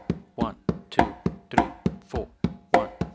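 Conga drums played in a clave-based independence exercise, a quick run of hand strokes in an uneven repeating rhythm with open resonant tones among sharper slaps, close and clear with no voices.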